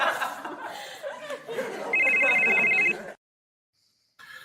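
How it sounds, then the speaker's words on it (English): A telephone ringtone at a work-life balance summit event, a bright electronic ring lasting about a second over background murmur and laughter from an audience. "So now the phone is ringing."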